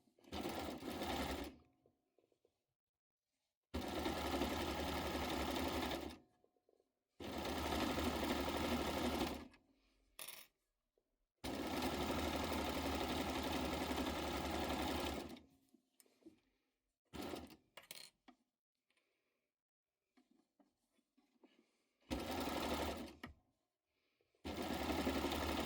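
A sewing machine stitches a hoodie in several runs of steady, close mechanical whirring, each lasting a few seconds, separated by quiet pauses and light handling clicks.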